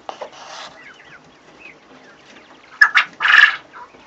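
Quail giving a crow call while being banded: two short, loud calls near the end, the second a longer buzzy burst. Before them come quieter chirps and rustling close by.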